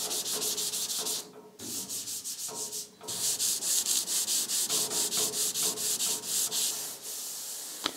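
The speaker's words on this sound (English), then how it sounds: "I'm going to do this dry together with my sanding block." A sanding block rubs dry over soft putty in quick, rhythmic back-and-forth strokes, close and scratchy, with two short pauses between bursts.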